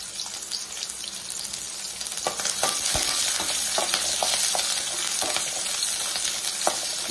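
Small shallots frying in oil in a pan for a chana and urad dal chutney, a continuous close sizzle with sharp crackles and a stirring clatter that grows slightly louder, no speech.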